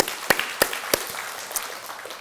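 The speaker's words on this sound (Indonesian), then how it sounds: "Berikan tepuk tangan untuk Tuhan Yesus." A church congregation at a Sunday service claps, with a few sharp, loud claps standing out near the start and scattered softer applause trailing off across the room.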